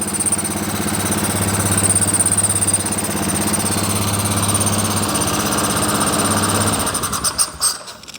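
A broken Polaris ATV bought for $25 idles at low RPM up close, a steady even rumble with light mechanical clatter that cuts out near the end, leaving a few brief knocks.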